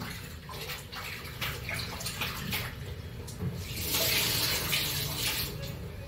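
Hot boiling water splashes and streams steadily for several seconds, growing a little louder and brighter toward the end, with no talking.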